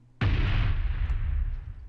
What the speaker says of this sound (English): No, Explosion Glass.